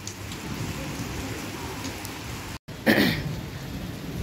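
Steady rain falls during summer, a soft continuous hiss with a brief dropout and a slightly louder burst near the end.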